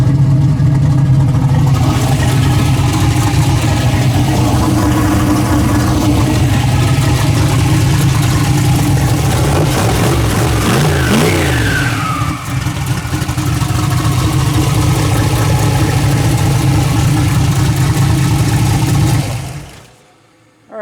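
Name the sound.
850 engine idling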